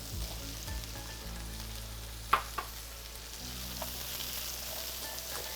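Ground chicken and mushrooms fry in coconut oil in a pan, giving a close, steady sizzle with a single sharp clack of a utensil partway through.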